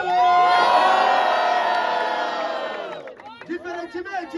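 A crowd at the Batalha do Forte Brazilian rap battle roars and cheers loudly during the vote for about three seconds. The roar fades into scattered shouts and whoops from individual voices.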